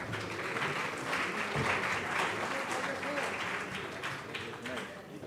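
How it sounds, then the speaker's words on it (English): Sustained audience applause at an international pharmaceutical conference as a guest is welcomed, dense steady clapping filling the room for several seconds with a murmur of voices underneath. "A big round of applause, everyone."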